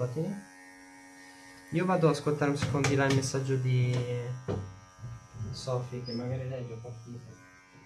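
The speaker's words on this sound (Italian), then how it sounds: "bello quando stacchi il rasoio e funziona allo stesso modo" A cordless electric razor hums steadily at close range while cutting a woman's hair, a constant buzz running beneath someone talking for most of the stretch.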